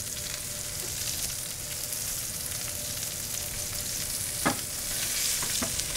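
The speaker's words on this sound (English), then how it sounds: "you're searing it correctly to get a nice crust" Steak searing in a hot pan to build a crust, a continuous close, loud sizzle with a few faint clicks and taps near the end.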